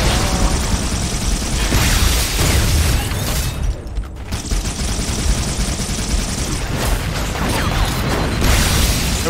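Halo CE game combat with loud, continuous booming explosions and heavy gunfire that fill the whole stretch, with a brief lull midway and no speech over them.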